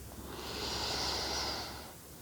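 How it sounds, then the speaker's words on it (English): A single slow, deep inhalation during a calm mindfulness meditation, a soft airy hiss that swells and fades over about two seconds, close and quiet with no talking. "Let's take a breath in"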